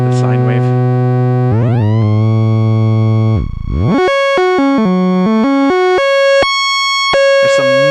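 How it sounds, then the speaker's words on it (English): A Eurorack modular synthesizer tone with layered harmonics sweeps and dips, then steps through a series of sustained pitches, loud and continuous throughout. "Let's go back to the sine wave."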